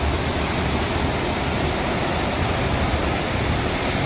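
Steady, rushing wash of fairly calm open sea seen from a cruise ship, a continuous broadband hiss and roar with no voices, like waves streaming past a moving hull.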